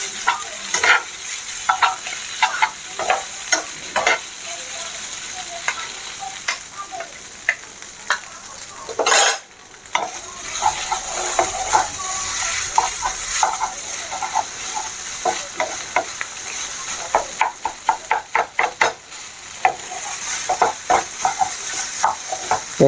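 Maggi noodle filling stir-fries in a pan, a bright steady sizzle with rapid, repeated scraping strokes of a spatula, briefly pausing midway before resuming with fast rhythmic stirring.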